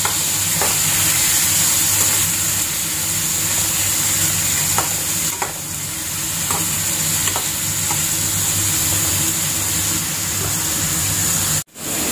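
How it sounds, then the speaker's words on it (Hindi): Spice masala frying in olive oil in a pan makes a loud, continuous close sizzle with occasional light scrapes and taps of stirring, cutting off abruptly near the end. "पहले जो मसाला है इसको डालेंगे, थोड़ा सा इसको फ्राई करेंगे"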